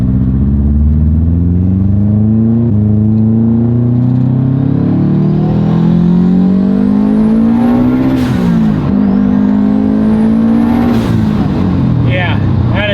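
A fully built Subaru STI engine revs hard on a dyno, its loud, close exhaust drone climbing steadily in pitch through two long pulls with brief drops between them.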